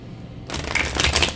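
Lumina Tarot cards being shuffled by hand: a brief quiet pause, then a dense, close run of papery riffling and flicking that lasts about a second.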